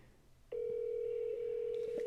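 A steady telephone tone sounds on a line for a call to a homeowner, starting abruptly and holding continuously as a single unbroken pitch, close and clear.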